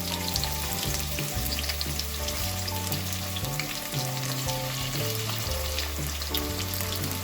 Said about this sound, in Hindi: अब 1/4 कप ऑयल गर्म हो गया है, इसमें मैं ऐड कर रही हूँ प्याज